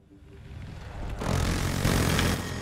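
Helicopter engine and rotor noise in the video game Battlefield 2042, a broad steady roar that swells louder about halfway through and holds, with no voices over it.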